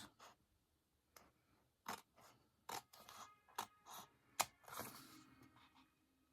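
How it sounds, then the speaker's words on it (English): Scissors snip and trim an oversized sheet of paper during a close, quiet crafting session, giving a series of short, crisp cuts and rustles spaced unevenly with brief pauses between them. "Grab your scissors."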